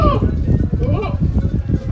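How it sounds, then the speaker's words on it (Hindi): Marwari sheep bleat amid a noisy flock setting, a couple of wavering bleats rising over a dense, rumbling background, with someone talking over them. "बहुत ही खूबसूरत भेड़ है, सारे के सारे मारवाड़ी भेड़ है।"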